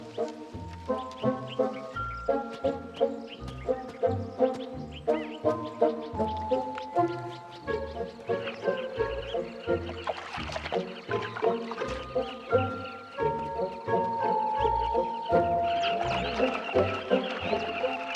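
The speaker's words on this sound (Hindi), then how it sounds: "चमकीले रंग बिरंगे परिंदों की चहचहाहट भूखे किशोरों को भटका देती है।" A colony of carmine bee-eaters by a river keeps up dense, overlapping chirps and calls, near and fairly loud, in quick irregular bursts with no talking.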